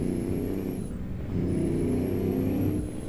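A heavy truck in American Truck Simulator drives along with a steady, loud engine drone and road rumble, easing briefly before building again.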